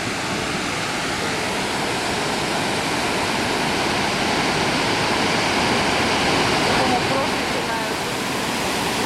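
Upper Skradinski Buk waterfall in Croatia, heard from right beside the water as a loud, steady, broadband roar of cascading water that holds at an even level throughout.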